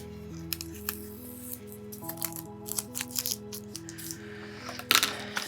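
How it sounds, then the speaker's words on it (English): Small Memory Keeper scissors fussy cutting paper give light, irregular snips over steady background music, close and fairly soft. "And I have these little Memory Keeper scissors."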